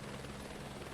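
Steady, dense rotor and turbine drone of a Sobo helicopter in Microsoft Flight Simulator 2024, continuous and fairly quiet with no talk over it.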